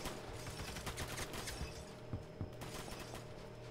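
Scattered gunfire crackles through a video game match, a mix of quick shots and short bursts at moderate distance under a busy background.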